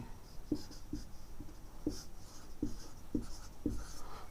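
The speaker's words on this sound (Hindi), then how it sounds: "चलो मैं लिख देता हूँ" Chalk or marker writing on a board during a biology lecture: a steady run of short taps and strokes, fairly close and quiet, with no voice over it.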